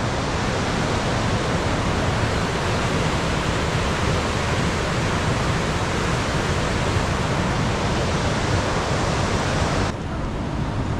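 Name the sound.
river flowing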